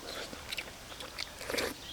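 Someone chews tender stewed meat in a sour vegetable and grilled catfish soup, making soft wet biting and mastication sounds up close, with murmured voices alongside.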